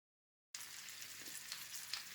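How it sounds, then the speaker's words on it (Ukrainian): Steady sizzling of tomatoes stewing in a hot frying pan, starting abruptly after a moment of silence and continuing evenly with faint crackles. "Розігріли сковорідку, додали туди помідорчики і тушимо 3-5 хвилин."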